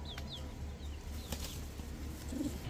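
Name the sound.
Birmingham Roller pigeon flapping wings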